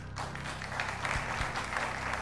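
A studio audience on a quiz show applauds in a brief, steady burst of clapping, moderately loud and without talk.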